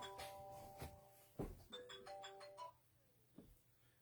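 A phone rings indoors with a repeating electronic chime of bright tones in quick sequence, fairly quiet and close, then stops.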